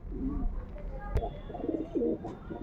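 Royal Teddy pigeons coo in soft, low, throaty bursts close by. Several calls repeat across the clip, with a sharp knock partway through and faint background hiss.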